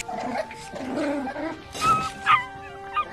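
A small dog in a film scene gives a few short yips and whimpers, close by, over a quiet background of faint voices and tones.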